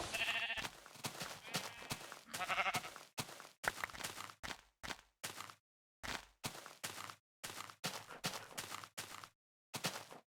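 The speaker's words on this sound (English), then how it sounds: "The spooky sheep noises." Sheep in a video game bleat again and again in short, separate calls. They are loud and close, with brief silent gaps between them.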